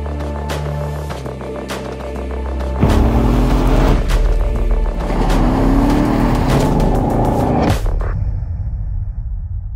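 A Mercedes-Benz CLS 63 S drives past with its engine rising loud and close, a strong throaty roar that swells, holds and then cuts off, leaving only a faint residual hum.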